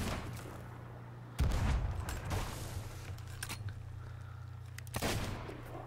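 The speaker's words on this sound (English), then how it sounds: "I'm just sniping, just so you guys know." Sniper rifle shots in the pirate video game Sea of Thieves: two loud, sharp cracks a few seconds apart, with sporadic quieter clatter over a steady low in-game hum and no talk.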